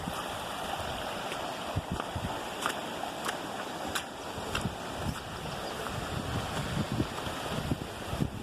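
Steady rainwater runs and trickles down around a house foundation outdoors, a continuous wash with scattered drips and light wind noise throughout.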